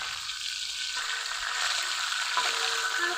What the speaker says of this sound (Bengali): লবণ হলুদ মেখে রাখা চিকেনগুলো ভেজে নিব